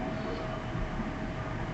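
A train rolling into Mangalore Central railway station, a steady dense rumble of wheels and carriages with a faint constant whine, continuous and fairly close, no voices.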